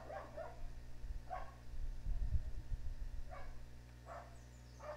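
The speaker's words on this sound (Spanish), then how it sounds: "Si escuchan a los putos perros, ignorarlo." Faint dogs bark several times at a distance in short, irregular bursts, set against a low steady hum and some nearby rumbling handling noise.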